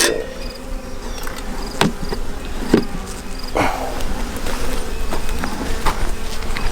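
Honey bees buzzing steadily at an open hive while cells are being checked and smoke is used, a dense continuous hum close to the ear with brief sharp knocks and clicks from handling the frames.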